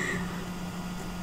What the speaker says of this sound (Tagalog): sobrang ingay naman ng electric fan.